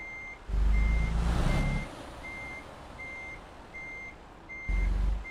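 A truck backing a trailer into a parking spot in Euro Truck Simulator 2. Its reversing alarm beeps at a steady, even rhythm, with loud engine rumble at the start and again at the end, and a brief hiss in between.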